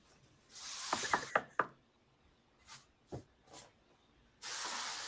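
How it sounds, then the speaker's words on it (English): A door is knocked on in a few sharp, close raps, a quick cluster and then a lone knock, with a hissing rush before and after and no voices. "come knock on the door"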